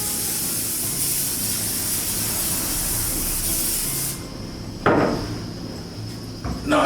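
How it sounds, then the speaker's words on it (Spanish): Butter-flavored cooking spray hisses from an aerosol can while pasta with seafood is cooked in a kitchen. It is one steady, close hiss lasting about four seconds, then it stops and a sharp knock or clatter follows. "vamos a poner un poco de mantequilla en el aerosol"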